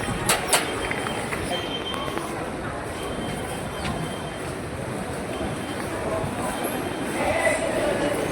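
A Kolkata metro train arriving at the underground Esplanade station, heard as a continuous broad rumble and rush of wheels filling the platform, with faint crowd murmur beneath.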